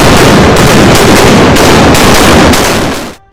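Broadside from a warship's port-side battery of heavy and light cannons and carronades, a continuous loud wall of overlapping blasts and rumble lasting about three seconds before cutting off abruptly.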